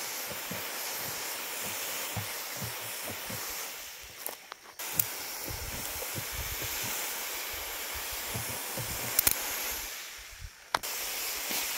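A continuous hissing spray of fertilizer goes on close by with brief pauses, broad and steady, punctuated by a few faint knocks and footstep-like sounds.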